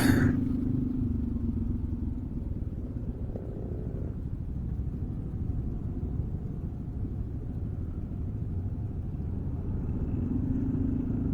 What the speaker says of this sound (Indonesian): Ini motor apa sih? Keren.